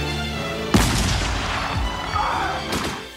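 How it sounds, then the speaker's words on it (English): A point-blank musket volley at the Battle of Bull Run cracks out as a loud, booming burst, followed by rolling echoes and a second sharp shot near the end. "which just delivered a point-blank volley of musketry right into their faces."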